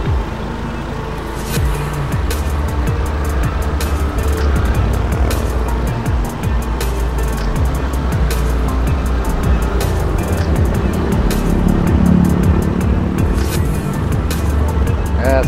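Car traffic on Jalan Jenderal Sudirman, a main city road near an underpass in Purwokerto, with a loud continuous roar of passing vehicles and occasional sharper bumps and rattles throughout.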